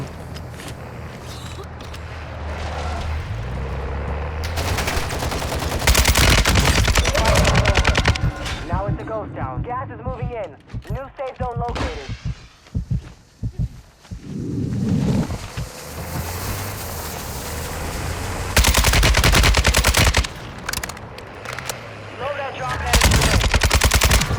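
Enemy gunfire in the video game Warzone 2.0, with loud bursts of rapid automatic shots between quieter stretches of rushing wind and engine noise, and occasional talk underneath.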